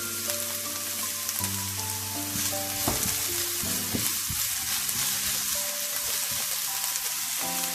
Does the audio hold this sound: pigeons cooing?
no